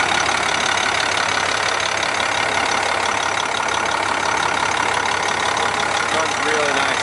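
A rebuilt DT466 diesel engine in a 2001 International 4900 septic truck running steadily, a loud, even idle with a continuous mechanical rattle throughout.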